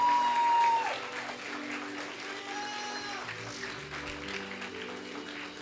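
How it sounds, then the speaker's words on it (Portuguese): A church congregation applauding at a Pentecost service, a steady wash of many hands clapping together with faint sustained musical tones underneath. "Vamos aplaudir mais forte porque ele é digno."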